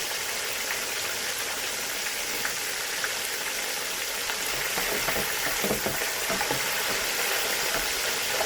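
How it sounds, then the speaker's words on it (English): Breaded chicken fried steak deep frying in a deep fryer gives a steady, dense crackling sizzle that holds even throughout, with no voices. "In the deep fryer, it's cooking both sides at once, so it takes half the time as in the frying pan."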